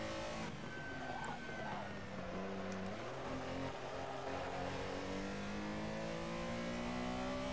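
Ferrari race car engine in a racing video game set at the Nurburgring GP circuit, revving up through rising and falling tones, steady and fairly quiet, with a broad whine beneath.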